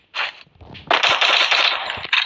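Loud automatic gunfire in the Free Fire video game, with a short burst followed by a longer sustained stream of rapid shots and a final brief burst, close and dominant.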